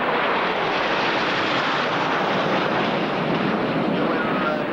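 Patrouille de France jets at an airshow, a loud, steady broadband roar of jet engines that stays constant throughout, with wind buffeting the microphone.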